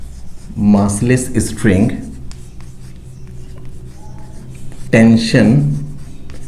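Chalk or marker scratching on a board during a physics class on pulley and string tension, faint scattered strokes between a teacher's speech.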